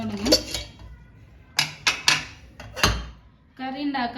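A metal pan is set on the stove to heat while cooking palak dal, giving several sharp, close clanks and clinks, followed by a brief voice near the end.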